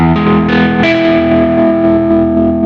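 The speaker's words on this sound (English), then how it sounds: "can hear it's pushing my Marshall a lot more, and it's giving me that darker tone." A Novo Serus T electric guitar pushing a Marshall amp into overdrive, a few loud distorted chords strummed and left ringing with a thick, darker tone and sustained decay, no talk.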